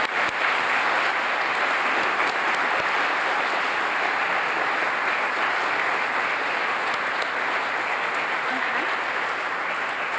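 A hall audience claps steadily for high school interns at a 2018 Lockheed Martin intern signing ceremony, a dense, even wash of applause that holds for about ten seconds.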